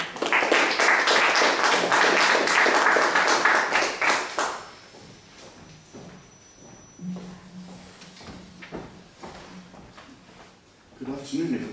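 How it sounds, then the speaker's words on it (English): An audience at a book launch applauds a professor being introduced, a dense burst of clapping for about four seconds that then thins to scattered claps and quiet talk. "please give a hand of applause to our colleague"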